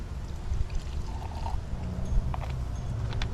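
Flush product is poured into a Sea-Doo GTX personal watercraft flush kit, giving a short, soft trickling pour with light splashes over a steady low background noise and no speech.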